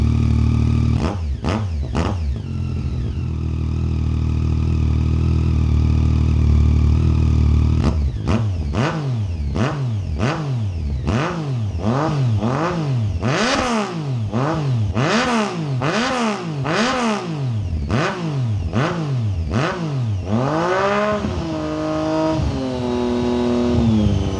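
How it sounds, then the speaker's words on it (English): A Yamaha FJ-09 (Tracer 900 GT) motorcycle with a freshly fitted Delkevic exhaust cranks and fires, idles briefly, then is blipped through a long series of sharp, rapid revs that rise and fall close up before settling back. "Now we're just going to fire up the bike and make sure everything works all right."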